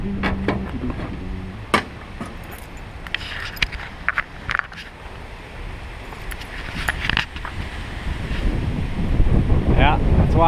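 Wind blowing at the coast, buffeting the microphone in rough gusts that swell toward the end, with scattered clatters and knocks from nearby gear.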